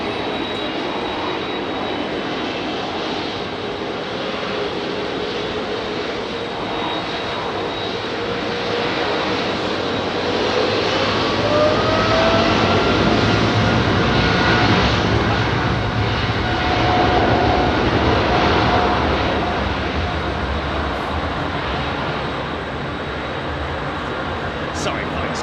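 KLM Boeing 747-400 cargo jet on runway 27R at London Heathrow, a loud sustained engine roar that swells and fades slowly, with a faint whine gliding across, heard close with a voice talking over it.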